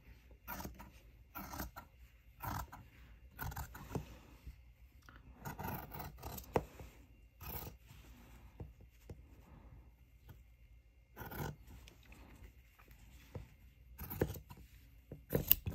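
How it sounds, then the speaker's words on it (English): Scissors cut through quilt fabric in quiet, close snips and crisp scraping strokes, coming in irregular clusters with soft pauses between. "I'm just going to cut this down first."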